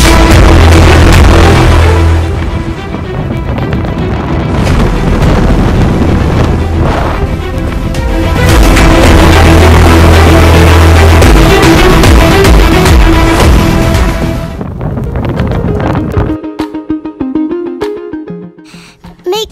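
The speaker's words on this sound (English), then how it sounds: "Wait till you see the howling winds coming past us when we're driving in our car." Strong wind in Alaska howls and buffets past a car as it drives, a loud roaring rush with mic-wind rumble that eases off toward the end, while a voice is heard at times.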